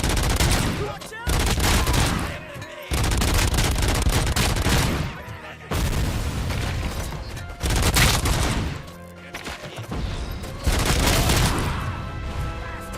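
Gunfire in the video game RoboCop: Rogue City: heavy, sustained bursts of automatic fire and crashing impacts ring out loud and close, broken by a few brief pauses, with voices shouting over the battle.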